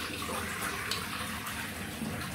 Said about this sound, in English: So I'm just going to go for the cold water rinse now.